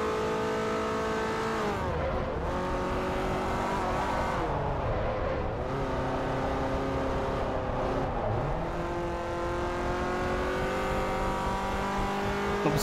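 A Mazda Miata racing in Forza Motorsport 4, its engine droning steadily and rising and falling in pitch through gear changes and corners, loud and continuous with no talk.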